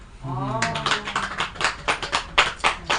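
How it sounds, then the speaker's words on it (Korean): Hands clap in a run of sharp, fairly close strikes at an uneven rhythm during a Buddhist lecture, following a brief voice at the start. "보살님이 올려 박수 치세요"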